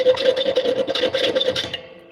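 A steel blade being cut by hand rather than with a grinder gives a steady, rhythmic rasping scrape, repeated strokes close up and fairly loud, with no talk.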